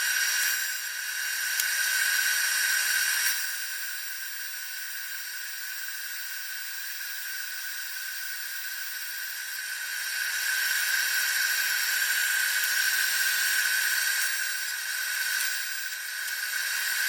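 A PrimeWeld TIG 325x arc welding aluminum on a test run, a steady high buzzing hiss that swells and eases in long stretches, continuous and close.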